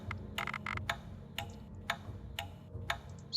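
An alarm clock from a KTaNE sound pack ticks in crisp, evenly spaced clicks about twice a second, heard alone over a faint low hum.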